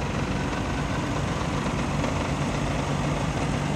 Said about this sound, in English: The inside of this engine bay also makes a bit of a rattling sound when it idles